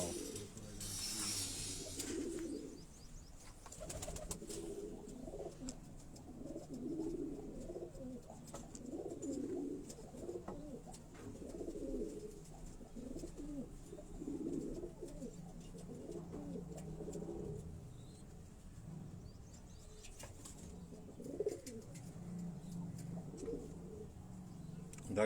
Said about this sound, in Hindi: तो दोस्तों ये कसूरी कबूतर हैं